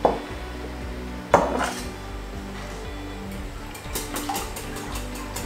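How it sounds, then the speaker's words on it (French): A quiche filling with fresh spinach, seasoned with salt and pepper, is stirred in a bowl, giving close clinks and scrapes of a utensil against the dish with a few sharper knocks and a soft wet churn underneath. "et on mélange notre préparation"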